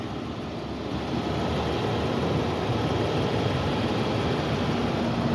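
A 2017 Audi Q7 engine running at idle, a steady even hum and low rumble close by that swells slightly after the first second and then holds constant.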